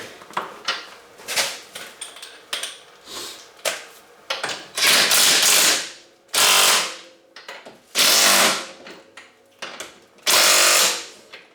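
A hand ratchet tightens the track mounting bolts on a 2016 Renegade XMR snowmobile, giving close, loud bursts of rapid clicking in uneven spurts separated by short pauses.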